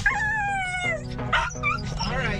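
Rescued dogs and puppies being loaded at an airport yip, whimper and give short high howls in quick overlapping bursts, close and fairly loud, with a voice mixed in.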